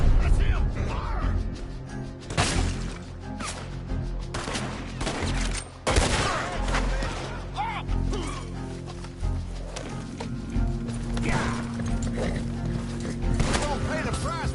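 Gunfire breaks out in a Red Dead Redemption 2 shootout: repeated sharp gunshots in irregular bursts, some close and loud, mixed with shouting voices and crow-like caws throughout.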